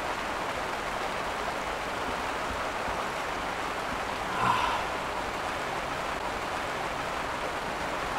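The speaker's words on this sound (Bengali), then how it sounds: "ইস বৃষ্টি আনার আর সময় পেল না।" Steady rain falls throughout, an even, continuous hiss of drops that stays loud and unbroken from start to finish, with one brief brighter splash or clatter near the middle and no voices heard.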